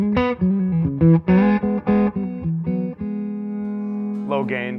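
Clean electric guitar with no overdrive pedal, played as a run of picked notes and short bends, then a long sustained note and a final strummed chord, bright and close with no talking.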